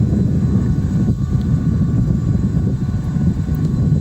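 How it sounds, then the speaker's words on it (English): An airplane drones overhead in a continuous low, rumbling hum, mixed with steady wind noise in a residential neighborhood. "The airplane up here, I mean, you can see it or not."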